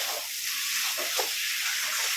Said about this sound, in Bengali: ম্যাগি চিকেন ডিম দিয়ে ম্যাগি ভাজা।